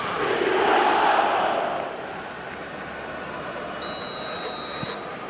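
A stadium crowd in the football game eFootball roars after a goal, loud and swelling at first, then easing into a sustained, fainter crowd murmur.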